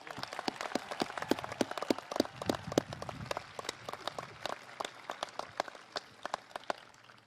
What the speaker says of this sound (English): please everyone give a round of applause to the class of 2016